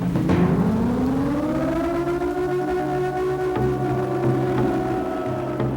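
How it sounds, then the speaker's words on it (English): A loud, droning air-raid-style siren from the horror video game Siren (PS2) wails continuously, its pitch sliding up and then holding in a long, eerie tone over a rumbling background. "I worked hard to make sounds that express fear, especially the sound of the siren"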